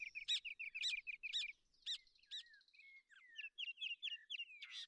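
A rufous hornero gives a rapid series of sharp, loud chirping notes, then a run of quicker descending calls, clear against silence, in grassland and marsh at San Rafael, Paraguay.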